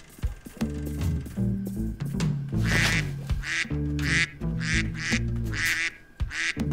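Cartoon ducks caught in a trap in the Bernd das Brot video game, loud repeated nasal quacks in quick irregular bursts, several overlapping, close and dominant with no talk over them.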